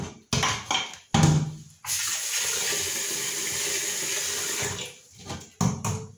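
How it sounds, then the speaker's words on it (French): Water being poured out and refilled in a cooking pot while preparing cassava leaves for saka-saka, a few short splashing pours followed by a steady rushing stream lasting several seconds, then more brief splashes, with no talking. "L'eau qu'il y avait là, j'ai tout changé. J'ai enlevé. J'ai enlevé l'eau."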